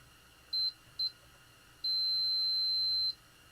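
A piece of electronic equipment being repaired on a Macintosh Classic II gives off high, pure electronic beeps: two short ones, then one long sustained tone, clear and alone over a faint background hum.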